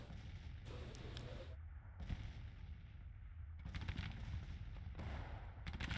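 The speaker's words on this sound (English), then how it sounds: "Marching right into artillery fire." Artillery fire in the Grand Tactician: The Civil War strategy game, a fairly quiet run of distant booms and crackling shots repeating through a steady battle rumble.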